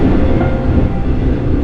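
Inside a Mugunghwa passenger train heading for Okcheon station on the Gyeongbu line, a steady low rolling rumble of the running carriage fills the short stretch with no talk.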